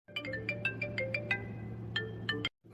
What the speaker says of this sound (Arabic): هي التليفون عمال يرن